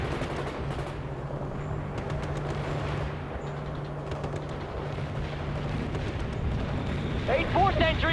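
Dense battlefield din of enemy gunfire and rocket launches in the World in Conflict strategy game, a continuous roar of shots and blasts with a steady low hum, voices shouting beneath it and a louder burst near the end.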